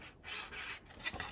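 A bone folder or fingertip rubs firmly over glued paper tabs on a handmade 7x7 mini album, a few short dry scraping strokes, close and quiet.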